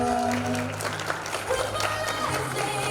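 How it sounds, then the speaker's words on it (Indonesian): Applause from a crowd at a wedding reception, steady clapping over music and background chatter, fairly close and moderately loud throughout. "Mari beri tepuk tangan Bapak Ibu sekalian"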